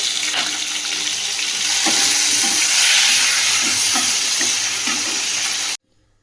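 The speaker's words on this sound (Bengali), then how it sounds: "এবার ওই তেলের মধ্যে একটা টমেটো ভেজে নেব।" A tomato fries in hot oil in a pan with a steady sizzle, a constant crackling hiss and occasional soft clinks, ending abruptly.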